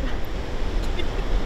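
Ocean waves wash at the sea in a continuous broad roar mixed with wind buffeting the microphone, steady and close.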